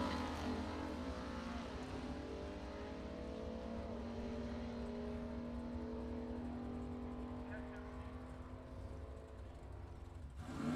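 A Mustang GT and an S10 pickup run side by side at a bracket drag race, their engines a steady distant drone that holds for several seconds and swells slightly at the very end.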